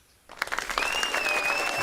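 Studio applause on a live whiskey tasting game show starts abruptly after a brief quiet moment and swells into steady clapping with cheering. A thin whistle-like tone sits above the clapping.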